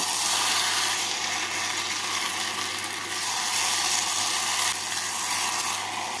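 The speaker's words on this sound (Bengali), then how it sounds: "চেরা কাঁচা লঙ্কা আর পুদিনা পাতা দিয়ে নাড়াচাড়া করে নেব।" Rice fries in a pan for chicken polao while green chilies and mint leaves are stirred in, making a steady, bright sizzle with faint scraping that continues without any speech.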